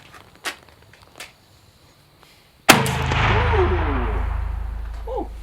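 A single loud, sharp rifle shot rings out outdoors after a few quiet seconds and leaves a long rolling echo behind it.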